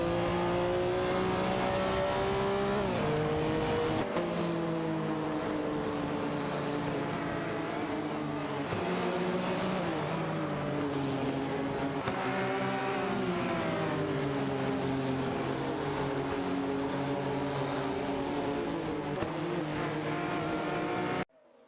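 Simulated race cars, a Ferrari R40 and a Dower 962, roar continuously through a racing video game, engine notes rising and falling in pitch with overlapping cars, loud and steady throughout with a short dip partway.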